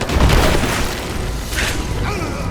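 Gunfire and explosions in the video game Rise of the Tomb Raider, a loud close boom followed by rumbling blasts and bursts, with shouted voices mixed in.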